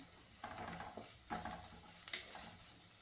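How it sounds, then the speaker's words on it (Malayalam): Spice powders frying in a pan on low flame for a raw mango curry, stirred with repeated close scraping strokes over a soft continuous sizzle. "ഇട്ട പൊടികളുടെ പച്ചമണം പോകുന്നേരം നല്ലപോലെ ഒന്ന് വയറ്റി കൊടുക്കുക"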